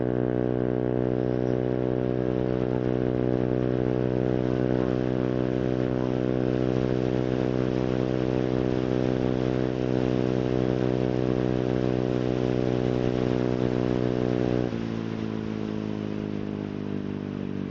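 A Honda Click 125 scooter with a CVT setup revving and holding high RPM, a loud steady buzzing engine tone close by that drops to a lower pitch near the end.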